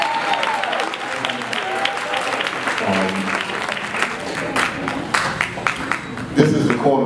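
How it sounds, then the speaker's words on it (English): A room full of people at a Black History Month program gives a sustained round of applause, dense clapping with a few voices and cheers mixed in, growing sharper near the end. "Let's give a round of applause."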